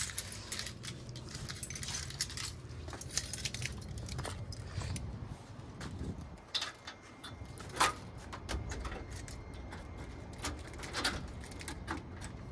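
Car keys jangle in short bursts at close range while someone hunts for them before a driving shift in Riyadh, with intermittent clinks over a steady background hum.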